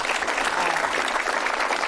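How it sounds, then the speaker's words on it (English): Audience applause for panelists after a restorative justice discussion, a steady wash of many hands clapping at moderate distance, fairly soft and continuous. "If we could have a round of applause for our panelists."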